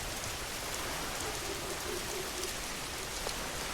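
Steady rain falls in the video game Schedule 1, a soft, even hiss of drops on surfaces running throughout at low volume, with no voices present.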